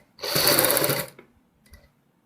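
An electric sewing machine runs a fast, loud burst of stitching on sherwani fabric for about a second, then stops, followed by a brief second short whirr.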